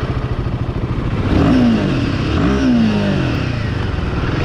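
A 2025 Royal Enfield Himalayan motorcycle on a test ride, its engine note rising in a steady revving run, close and loud with a continuous throbbing rumble and no talking.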